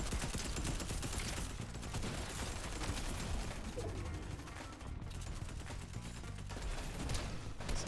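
Rapid gunfire rattles almost without pause through a Fortnite video game battle, a dense and steady stream of shots at moderate loudness with no break.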